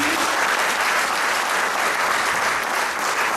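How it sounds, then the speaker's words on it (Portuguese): Sustained, even applause from an audience at an Angolan independence anniversary thanksgiving church service in London, clapping for embassy staff. The dense clapping continues steadily throughout with no voices on top. "vamos aplaudir os nossos, o membro do staff da embaixada"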